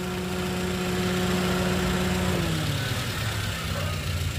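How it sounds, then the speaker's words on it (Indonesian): A Toyota Avanza G 1.3 manual from 2012 idles with a steady, close mechanical hum and faint vibration, holding an even drone throughout without any talk. "Mesin kering, itu nyala ya mesin ya."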